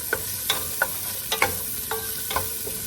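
Onions stirred and sautéed in a pan for a Filipino pechay and sardine sauté, with a soft sizzle under about eight sharp scraping strokes of the utensil spaced irregularly, close up, no talking.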